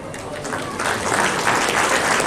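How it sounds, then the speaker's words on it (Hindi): An audience claps loudly for award recipients at a community talent award ceremony, a dense, continuous burst of applause that swells slightly and holds for a couple of seconds. "मैं चाहूंगा एक आप अपने लिए तालियां बजाएं जोरदार।"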